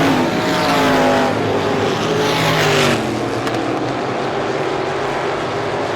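350 Supermodified race cars roar around Star Speedway in the season's final race, a loud continuous engine howl that rises as the pack passes and then fades to a steadier distant drone.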